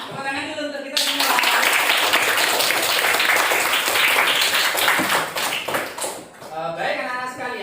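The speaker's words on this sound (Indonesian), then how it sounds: "Tepuk tangan dulu untuk kita semua." A class of schoolchildren claps their hands together in a loud, sustained burst of applause lasting several seconds, with a teacher's voice heard before and after.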